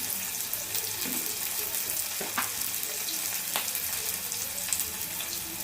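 Curry leaves sizzling in hot oil, a dense, constant hiss close to the pan with a few faint scrapes, without any voices.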